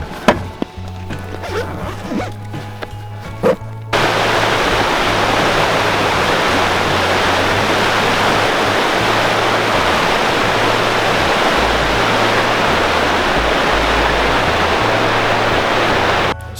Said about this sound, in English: So spring melt-off has started. That normally is just a nice little quiet babbling little creek. Right now, not so much.